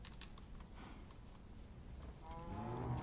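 Cattle mooing in Minecraft Survival v1.13, a low drawn-out lowing that swells louder near the end over a steady background bed, with no voices.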